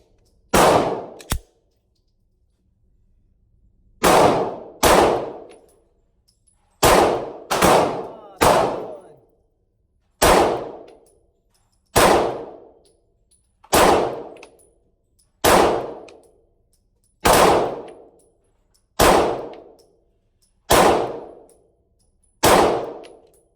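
Smith and Wesson M&P 2.0 Compact pistol shots, each followed by a ringing clang off a steel target, about fourteen sharp reports in a steady, evenly spaced rhythm, close and loud after a brief pause early on.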